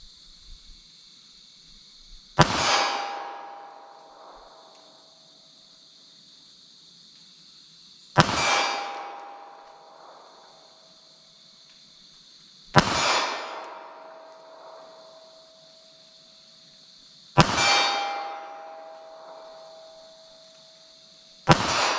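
A Ruger LCP pistol fires .380 ACP at a steel target 25 yards away: five widely spaced sharp cracks, each followed by a ringing metallic clang that fades over a few seconds, against a steady background hum.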